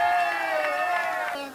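Spectators cheer at a soapbox-style go-kart race in Esteiro, with a loud, sustained shout carrying over the crowd before it tapers off.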